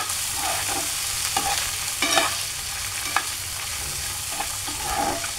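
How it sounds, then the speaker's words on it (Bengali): Green peas fry in mustard oil with a steady broadband sizzle, while a utensil scrapes and stirs through the pan in scattered clicks and brief louder knocks, close and continuous without any talking. "মটরশুঁটিটা আমি 5 মিনিটের মতো একটু ভেজে নেব সরিষার তেলটায়"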